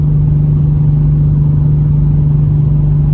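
A Holden VY Calais drift car with a manual conversion hums steadily and loudly from inside on a test drive, a constant low drone with no voices or changes in pace.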